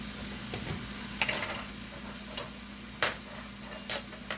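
Garlic and meat sizzling in a pan while pansit is cooked, a steady frying hiss with several sharp scrapes and clinks of a utensil stirring against the pan at irregular intervals.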